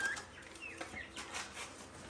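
An Orpington hen clucks softly and faintly in short murmuring calls, close by in a quiet setting, with no talk.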